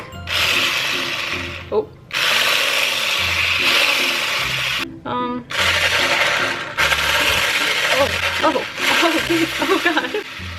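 A handheld electric whisk runs in a kitchen mixing a creamy batter, a loud buzzing whir in several long bursts with short stops between, and a person briefly exclaims.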